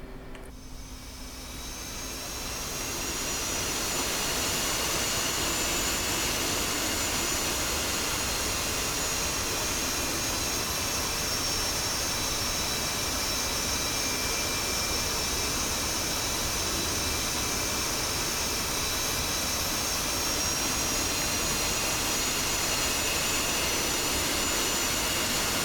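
F-18C jet engines run steadily during taxi in the DCS flight simulator, a loud continuous whine and roar that swells over the first few seconds and then holds constant, with no talking.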